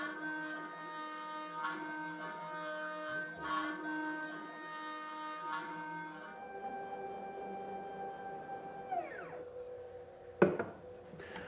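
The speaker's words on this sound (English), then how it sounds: "we'll go ahead and cut the mortises for the legs" CNC router cutting leg mortises in a wooden slab chair seat, a steady tonal spindle whine with pulsing passes, shifting pitch partway through, fairly faint, no talk.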